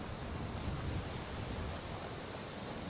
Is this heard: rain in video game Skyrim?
yes